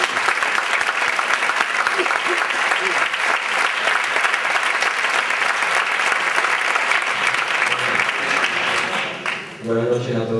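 Audience applause at a Spanish processional band concert, a dense, steady wash of clapping that fills the room for about nine seconds before tapering off, with a voice beginning to speak at the end.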